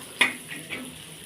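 Food for shev bhaji sizzles faintly as it is sautéed in a hot pan, with one sharp clack of a utensil near the start; no voices.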